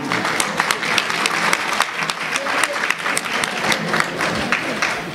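Sustained applause from an audience at a Senegalese teachers' union excellence day ceremony, honoring a woman; dense steady clapping with scattered louder claps, continuous throughout.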